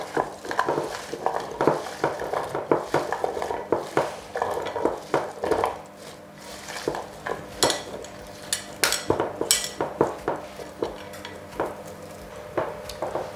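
Seasoned food on two baking trays being mixed by hand, giving a close run of soft squelching, rustling and light tapping strokes in an uneven rhythm, with no talking.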